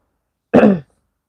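A single short, close cough or throat clear, loud and abrupt, from a woman with a lingering cough, alone in silence.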